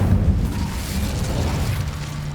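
Incendio fire spell cast in the Hogwarts Legacy video game, a steady low roaring rumble of flames that holds for a couple of seconds with no break.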